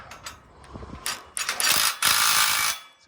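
A ratchet wrench clicking loudly and close while tightening a bolt on a MAX boat lift canopy frame, in quick bursts of pawl clicks with no talking.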